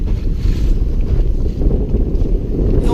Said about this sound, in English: we're out here at the entrance of Virgin Gorda in 4 to 6 foot waves